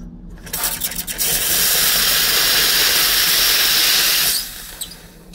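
Brasilia espresso machine steam wand letting out a loud, steady hiss that starts abruptly, holds for about three seconds up close, then cuts off with a few small clicks.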